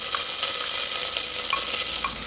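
Sliced onion sautés with bay leaf and cinnamon in a pressure cooker for coconut milk biryani, making a steady close sizzle with a few light stirring taps.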